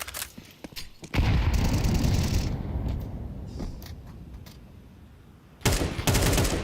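Counter-Strike match gunfire at a major esports event: a few sharp shots open, then a dense burst of rapid fire rolls on for several seconds and fades, and another loud burst hits near the end.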